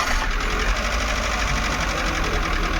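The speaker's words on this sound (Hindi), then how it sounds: "तो इंजन को एक बार स्टार्ट करता हूँ मैं" A misfiring petrol-CNG engine in a Maruti Suzuki Eeco van runs with a loud, dense, uneven chattering drone, close and continuous over a few seconds without any talk.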